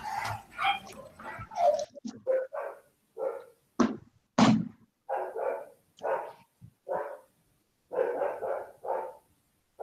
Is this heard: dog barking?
yes